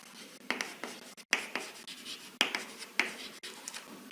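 Pen or chalk writes a math equation during an algebra lecture, with scratchy strokes and taps spread irregularly across several seconds, quiet and close, with no talking.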